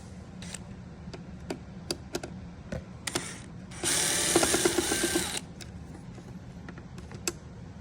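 Screws being unscrewed during a screen replacement on a 2015–2020 Cadillac Escalade, heard as close, quiet ratcheting clicks and mechanical ticks with a louder buzzing burst of driver noise in the middle.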